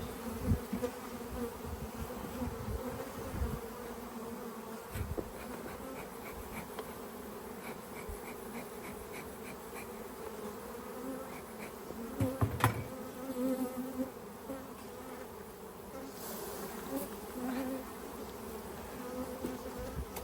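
Honey bees buzz continuously around a rhododendron honey hive during a forest harvest, a dense steady drone with occasional louder passes of single bees near the listener.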